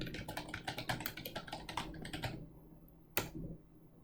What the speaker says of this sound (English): So I'll just type in a company name